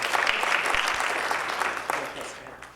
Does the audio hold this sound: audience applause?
yes